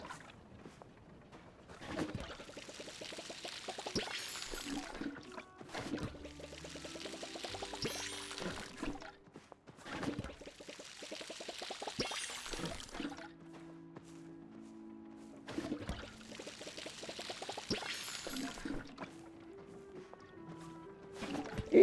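A watering can pours water onto trees in the video game Palia, giving short splashy pours in separate bursts with quiet gaps between them, alongside soft game music and faint bird calls.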